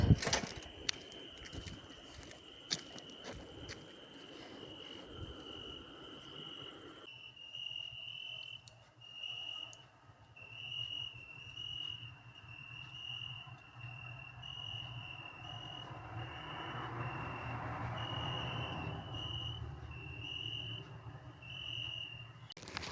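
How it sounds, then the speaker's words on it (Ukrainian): Steady, high-pitched cricket chirping continues throughout, pulsing in a fast rhythm over a quiet outdoor background, with no talking. "Чуєте цвіркунів?"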